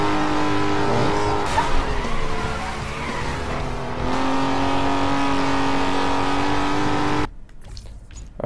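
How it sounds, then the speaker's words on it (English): A drift car in the racing video game Need for Speed Most Wanted roars loudly and steadily, its engine revving with sustained tire squeal and skidding before the sound cuts off abruptly near the end. "I'm seriously gonna have to turn down the engine noise."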